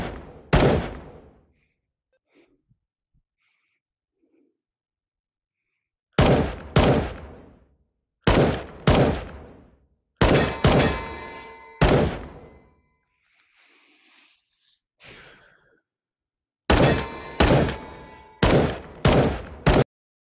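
Single-fire gunshots from a firearm in the VR shooter H3VR: a sharp lone shot, a long pause, then spaced individual shots arriving in pairs and small clusters, loud and close with short decaying tails and no talking.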